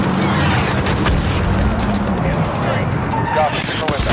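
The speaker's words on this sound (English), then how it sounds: "Got him, missile impact." A missile impact explosion in Call of Duty Modern Warfare (2019) on an embassy mission, heard as a dense, loud booming rumble of battle noise with gunfire, continuous throughout, with voices talking over it.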